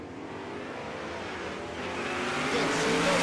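Drag-race cars, a 2014 Camaro ZL1 and a 2001 Silverado, at a Texas Motorplex race week event. Their engines roar and build steadily louder, a continuous rising drone heard from a distance.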